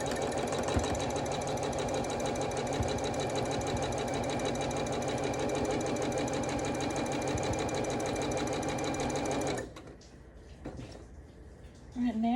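A sewing machine runs fast and steady at close range, stitching quilt blocks side by side into rows for a calico snails table runner, then stops near the end, leaving quiet handling noise and faint speech.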